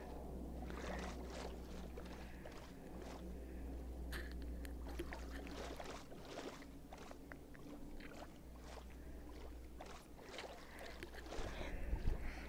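A boat glides over water in the Minecraft video game, a steady low hum with soft splashing and scraping textures running throughout, no talking.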